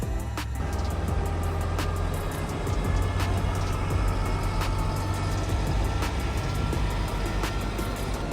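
A tourist truck driving along a sandy road on Fraser Island (K'Gari) gives a steady, loud low engine rumble and drone that continues throughout, with no talking.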